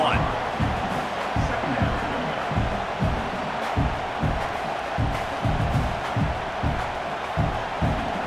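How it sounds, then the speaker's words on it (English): Stadium crowd in the EA College Football 26 video game, Louisiana Tech at LSU, a loud steady roar with rhythmic chanting pulses under an announcer talking throughout. "This crowd ready to make its presence known."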